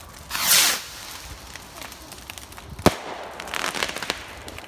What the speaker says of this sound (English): These are one of the best ones we've had in ages. These are mega rockets.